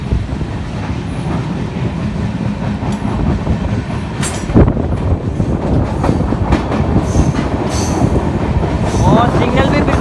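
The Dehradun Tanakpur Weekly Express rolls along with continuous rumbling wheel noise, rhythmic clickety-clack and brief metallic squeals, heard from inside a nearly empty sleeper coach.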